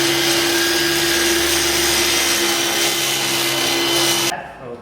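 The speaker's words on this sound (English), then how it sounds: "So we just drilled one where there wasn't any rebar and it was way easier." A hammer drill boring holes into a concrete garage floor for car lift posts, a loud steady grinding roar held close and continuous for several seconds before it cuts off abruptly.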